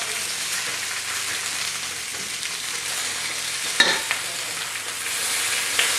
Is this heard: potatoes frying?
yes